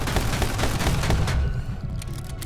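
Gunfire in the action game My Friend Pedro, a loud dense burst of rapid shots that thins out into scattered cracks.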